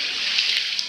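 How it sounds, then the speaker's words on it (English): Cold water is thrown over someone's head, a continuous hissing, sloshing splash lasting about a second, close and fairly loud, with no voices. "Quinn felt a splash of cold water chucked over his head"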